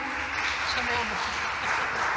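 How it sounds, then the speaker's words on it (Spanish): Audience applause at a Spanish-language international conservation conference at a museum, a steady dense wash of clapping that holds evenly through the moment with faint voices beneath. "Les damos un fuerte aplauso a Constanza."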